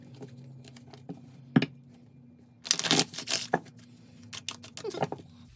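Tarot cards are shuffled by hand in a quiet room, with a few soft isolated taps and then a burst of rapid riffling and flicking cards, close and crisp.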